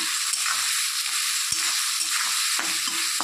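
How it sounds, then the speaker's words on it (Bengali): Onions frying with a little salt in a pan for chicken kalia, giving a steady, close broadband sizzle with a few faint stirring scrapes and no talk. "পেঁয়াজ ভাজার সময় নুনটা দিলে পেঁয়াজটা তাড়াতাড়ি একটু নরম হয় আর ভাজাটাও তাড়াতাড়ি হয়"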